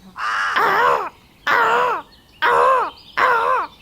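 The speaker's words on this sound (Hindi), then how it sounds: "थियो कौवा पेड़ पर बैठ के लगातार अपनी साथी को बुला रहा था" A crow caws four times in a row, each call a loud, harsh, drawn-out caw separated by short pauses, close by with no other sound.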